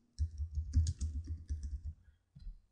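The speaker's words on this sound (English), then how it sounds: "in keyword popularity I'm typing in words that I find" Quick bursts of keystrokes on a computer keyboard, close and fairly quiet, with a short pause before a final few taps.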